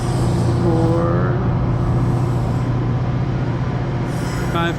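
A regular train of an engine and five cars passes Campbell Hall station in New York, making a steady, loud rumble with a low mechanical drone and a faint hiss throughout.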